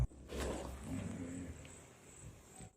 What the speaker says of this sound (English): I think you could hear the hippopotamus in the background